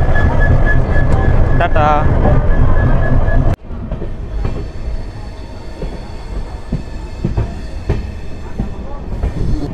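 Padatik Express train pulling out of New Jalpaiguri station, a loud continuous rumble of wheels and carriages with rattling clatter throughout, a brief voice heard near the start.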